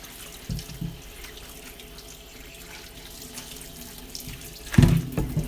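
Tap water runs steadily into a kitchen sink during dishwashing, a continuous hiss with a louder splash and clatter near the end.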